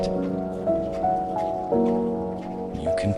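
Steady rain falls with a constant patter of raindrops, heard under soft sustained tones.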